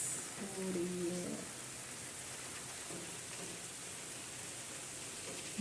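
Rain pours steadily outside a village house, a soft continuous hiss, with a short voice-like sound near the start before the downpour carries on alone.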